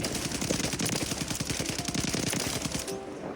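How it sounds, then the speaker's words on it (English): TAC Eradicator light machine gun from the video game Warzone firing a long continuous automatic burst, rapid steady shots loud and close, ending abruptly near the three-second mark. "We have the TAC Eradicator. This is a great gun for people who want minimal recoil"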